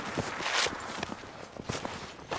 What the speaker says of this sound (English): Thought I heard a footstep, but I could be drunk